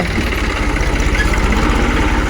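A tractor engine idles close by, a steady low rumbling throb with an even pulse running unbroken and fairly loud throughout.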